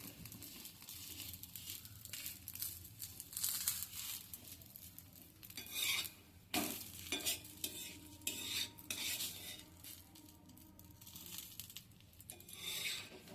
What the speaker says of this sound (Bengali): এভাবে একটু টিপে টিপে ভেজে নিচ্ছি